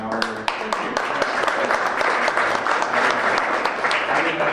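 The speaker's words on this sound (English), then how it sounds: "so I will take that applause." Enthusiastic audience applause at a university big-idea pitch tournament, a dense, loud wash of clapping with a few sharper claps throughout.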